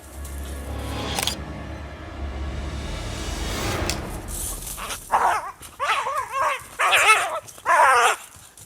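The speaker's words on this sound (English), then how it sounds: "When a lone canine ventures too close or lingers too long, the strike is sudden and often unexpected." A lone canine under attack from a wild cat, with rumbling noise giving way to a run of loud, close, distressed barks and yelps in short bursts.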